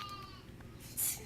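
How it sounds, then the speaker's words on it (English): A baby lamb bleats once, a short, thin cry near the end amid low background murmur at a farm animal visit to an elementary school. "It's a little baby lamb for right now."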